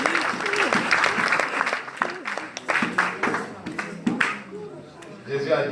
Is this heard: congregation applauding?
yes